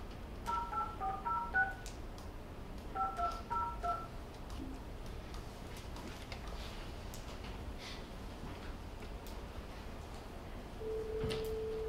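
A phone dials out to a caller named Lawrence: two quick bursts of touch-tone beeps, faint and clear, followed by quiet room hush and a long steady tone near the end.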